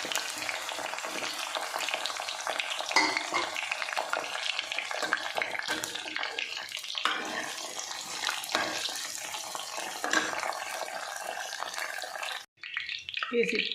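Whole okra (bhindi) shallow frying in oil in a pan, a close, steady crackling sizzle that runs nearly unbroken before thinning out briefly near the end.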